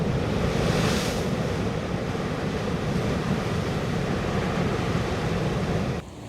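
Atlantic Ocean surf breaking against exposed rocky cliffs on the wild Maine coast, a steady, loud broadband roar of waves and wind that holds constant, then drops abruptly near the end.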